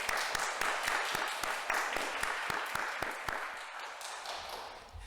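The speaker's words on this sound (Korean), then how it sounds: "잠깐 일어나 주시고 박수로 환영하겠습니다" A church congregation at a Sunday worship service in Maryland claps to welcome a visiting young man, steady moderately loud applause with distinct individual claps that gradually thins toward the end.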